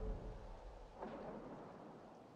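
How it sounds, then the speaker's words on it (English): Low rumbling thunder rolls under a steady wash of rain in the Tales of Kenzera video game, a soft continuous storm bed with a faint swell near the middle and no voices. "The rain has arrived."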